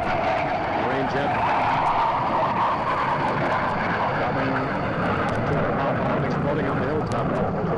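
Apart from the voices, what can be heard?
Marine jet aircraft flying over, Vietnam War recording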